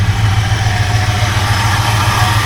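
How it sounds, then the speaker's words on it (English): A 1971 Buick GS idling in park, its engine pulleys and water pump giving a steady low hum with a constant mid-range whine and faint vibration, close and unbroken, with no talking. "That sound you hear, I think is these pulleys."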